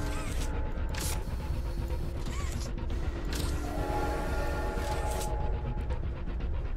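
Steady rumbling mechanical noise of a moving train in the horror video game Poppy Playtime, continuous and loud with creaks and clanks throughout and no voices.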